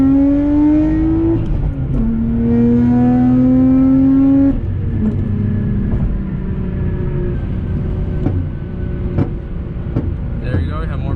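A right-hand-drive car driven in America pulls hard in a full-throttle run: a loud rising engine note climbs, dips at quick gear changes, then gives way to scattered sharp exhaust pops and crackles on the overrun.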